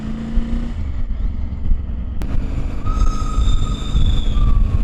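A train rumbles past close by in the Pyrenees mountains, with a sharp click and a high metallic squeal from the wheels over a steady low roar.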